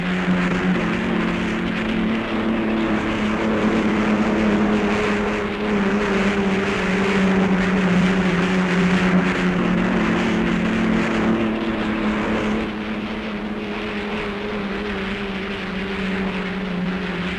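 Hydroplane race boat powered by Chrysler Hemi engines roaring steadily at a distance, a sustained droning engine note with no talk over it.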